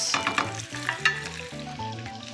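Food with garlic sizzles and fries in a pan while being stirred, a close crackling hiss broken by a few scraping stir strokes.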